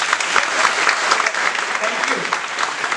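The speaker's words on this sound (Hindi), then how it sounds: "यार तालियां तो मिल सकती होगी शायद" An audience clapping after an entrepreneurship and innovation session, dense steady applause filling the room at close range, continuous from start to finish.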